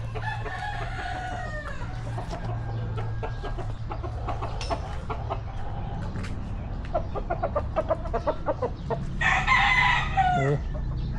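Backyard farm chickens clucking nearby, with a rooster crowing loudly near the end over a low steady hum.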